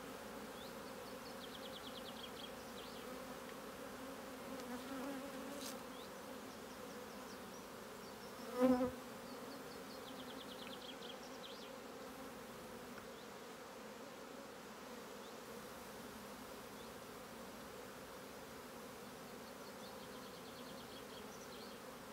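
Honeybees hum around an open apiary hive on a hot sunny day while the beekeeper smokes the frames, a soft, even drone of many insects throughout, with one sharp knock partway through.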